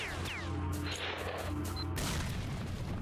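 A muffled explosion and scattered gunfire boom in S.T.A.L.K.E.R.: Shadow of Chernobyl, with several low thuds and crashes over a steady hum, moderately loud and close.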